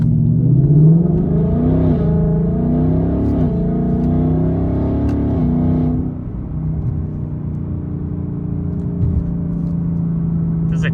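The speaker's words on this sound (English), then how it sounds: "This exhaust is just so nice." A Ford Mustang GT exhaust roars loudly as the car accelerates from a stop at a green light, the revs climbing through gear changes before easing to a steady, deep rumble while cruising, with no talking.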